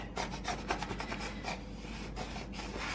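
Repeated rough scraping strokes of a scraper rasp across a vinyl sheet, close and fairly loud, in an uneven back-and-forth rhythm with no talking.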